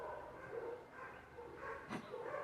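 Dogs bark in a neighbourhood, faint and distant, a few scattered yips and barks over a low background hum, with muffled voices nearby.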